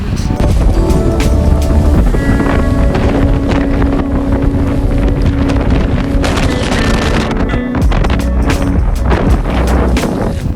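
Fierce wind in Iceland near a church hammers the microphone in a loud, continuous roar with rumbling gusts, while voices are partly heard beneath it.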